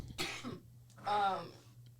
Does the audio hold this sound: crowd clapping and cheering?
no